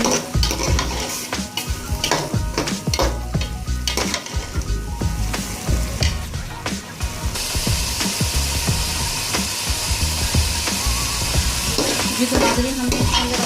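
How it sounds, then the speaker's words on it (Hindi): Aloo qeema with yogurt sizzles and fries steadily in a pot, with continuous close stirring and occasional scrapes of a spoon against the metal throughout. "दही डालने के बाद इसकी अच्छी से भुनाई करेंगे।"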